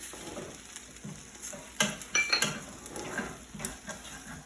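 Leftover fried rice stirred with hoisin sauce in a pan, a soft low sizzle under scattered scraping and clinks of a utensil against the pan, with a few sharper metallic taps in the middle.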